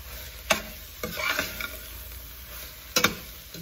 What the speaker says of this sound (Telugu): 1 స్పూన్ ధనియాల పొడి, వీటన్నిటిని కలుపుకోవాలి.